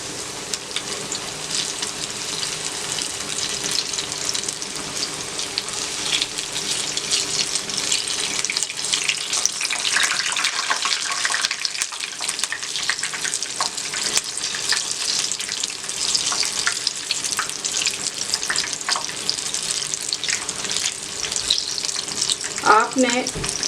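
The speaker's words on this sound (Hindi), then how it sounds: "आपने मीडियम फ्लेम पे इनको फ्राई करना होगा ताकि ये अच्छे क्रिस्पी बन जाएं" Bread pakora fritters fry in hot oil over a medium flame, giving a steady, dense sizzle and crackle that runs throughout at a fairly even level, with a brief clatter near the end.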